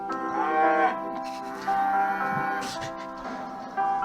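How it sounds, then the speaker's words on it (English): Moos carry as a drawn-out, tonal call that rises and falls across several seconds, loud and close, with a second call starting near the end. It may come from a toy or recording rather than a live animal. "It's just mooing or whatever it does."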